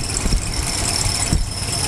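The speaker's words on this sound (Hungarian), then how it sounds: "Balra pötékel egy busz." A bus rumbles past on the left in city traffic, a steady low engine drone with brief louder swells, heard from a moving vehicle going slightly faster than the traffic, with a constant high whine running throughout.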